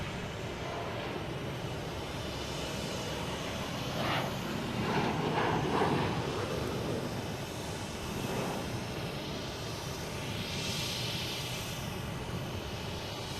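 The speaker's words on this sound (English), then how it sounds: "American Airlines, B-175, heading to LaGuardia" An American Airlines Embraer 175 jet bound for LaGuardia roars steadily at Boston Logan Airport, a broad continuous rumble and hiss that swells gently and fades slightly, heard alone without talk.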